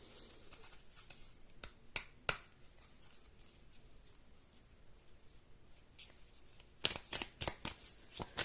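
Oracle cards being shuffled and handled by hand, soft papery rustling with a few sharp riffle and snap bursts, clustering near the end, close and quiet with no talk.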